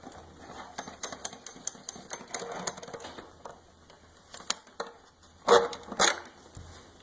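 Bolts are removed from a Honda CRF450R motorcycle with a tool that makes rapid, irregular metallic clicks close by, with a couple of louder clanks near the end and no talking.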